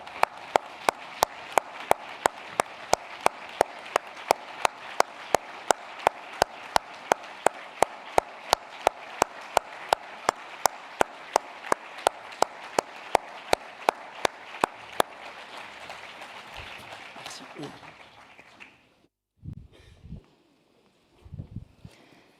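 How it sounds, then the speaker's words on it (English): Delegates at the opening ceremony of an international animal health meeting stand and applaud in tribute to a late colleague, a rhythmic, unison clapping that beats steadily for about fifteen seconds, then fades into quiet with a few stray sounds. "please stand and applaud Caroline's memory"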